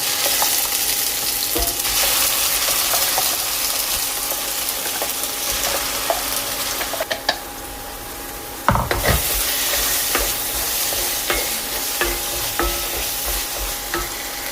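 A ground paste sizzling in melted ghee in a pan while it is stirred, steady and close, with scraping and clinks scattered through and no talk.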